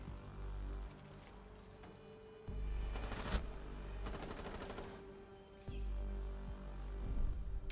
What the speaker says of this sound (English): Sincere will gun Trippin down and then shoot the body a little bit